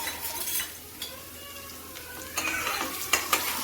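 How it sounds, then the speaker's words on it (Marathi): Potato pieces frying in a pan for poha, a steady close sizzle with occasional scrapes and clinks of a spoon stirring, no voices. "आणि बटाटे आपण फ्राय करून घेऊया।"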